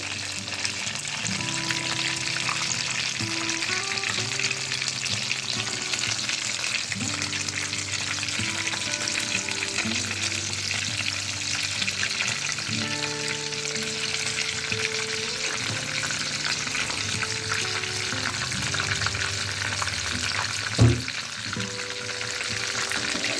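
Capsicum and egg fry in a pan with a constant, fairly loud sizzle, occasional stirring scrapes and a faint tonal hum underneath, and nobody speaks.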